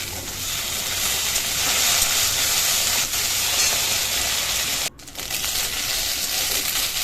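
Spices and ginger paste fry in a pan with chopped onion, giving a steady close sizzle. There is a brief sharp break near the end before the hiss continues.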